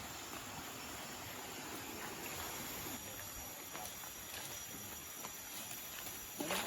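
A hidden waterfall in Kutai Kartanegara: a steady broadband rush of falling water fills the stretch at a constant level, with a few soft knocks and a brief louder thump near the end.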